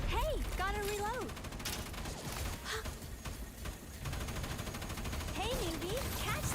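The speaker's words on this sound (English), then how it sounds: "Now, this is suppressive firepower!" Automatic weapon fire in the video game Fortnite, a dense run of rapid, crackling shots filling the middle of the clip, with a voice speaking just before and just after.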